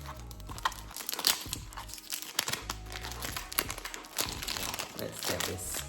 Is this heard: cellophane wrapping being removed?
yes